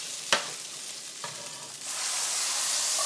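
Cooked spaghetti drops into a hot pan holding a carbonara sauce base, with a sharp thud and a quick stir. A steady, bright sizzle builds and swells louder as the pasta fries.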